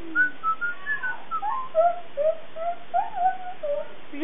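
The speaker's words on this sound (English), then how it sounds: "Can you whistle for me with that tooth?" A child missing a tooth attempts to whistle, producing a series of short, breathy, wavering whistle notes with small gaps between them, close and fairly loud.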